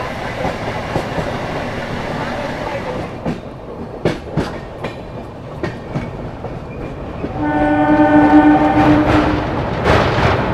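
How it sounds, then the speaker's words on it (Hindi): A Bardhaman local train pulls into a halt. Heavy rail rumble and rhythmic clickety-clack of wheels over track joints fill the scene, and a loud steady horn blast sounds near the end. "वर्धमान लोकल आ ही चुकी है ऑलमोस्ट, ये भी इसका हॉल्ट है।"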